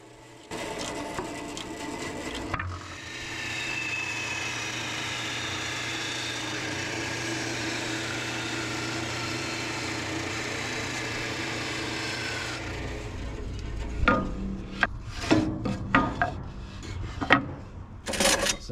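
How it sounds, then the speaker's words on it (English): A bandsaw slices through a block of wood with a steady, loud rasping whine that holds for about ten seconds, then the cut ends and the motor runs on beneath scattered knocks and handling sounds. "I absolutely love using this bandsaw because it's just so satisfying to watch."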